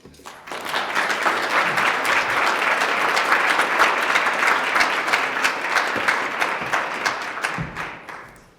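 An audience at a panel discussion in Ottawa applauds steadily to welcome a speaker to the stage, dense clapping that swells quickly and holds for several seconds before tapering off near the end.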